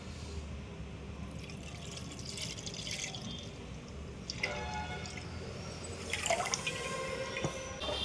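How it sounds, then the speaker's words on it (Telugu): Thick milk is poured into a thick-bottomed pot that already holds a little water, making a quiet, close liquid trickle with soft drips and splashes that grow busier toward the end. "చిక్కటి పాలు వేసుకోవాలండి."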